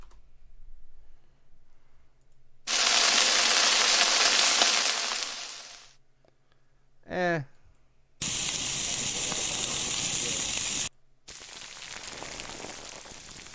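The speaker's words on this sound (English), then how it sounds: "Let's try sizzling" Sizzling fire foley effect heard as separate bursts of loud, broadband hissing and crackling, with a short sweeping tone between them and quiet gaps in between.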